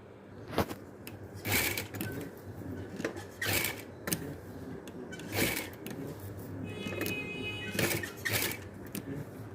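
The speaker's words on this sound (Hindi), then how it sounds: "अब इसके ऊपर सिलाई लगाऊंगी इसके किनारे किनारे पे" A domestic sewing machine stitches along the edge of a neckline on patchwork with a trim, in several short, separate runs of whirring with quiet gaps between.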